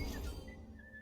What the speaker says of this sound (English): That was the noise he made.